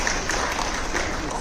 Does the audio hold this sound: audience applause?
yes